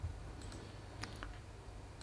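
A few sharp computer mouse clicks, spaced out and quiet, while stepping through a software installer on a PC, with low background hum and no speech.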